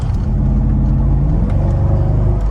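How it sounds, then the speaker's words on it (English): A Mercedes-Benz SL55 AMG V8 engine growls with a deep, steady rumble, loud and close, holding an even throaty tone throughout. "Nice AMG growl."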